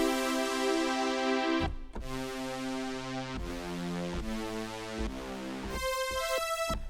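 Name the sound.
super saw synth pad playing chords, tweaked Future House preset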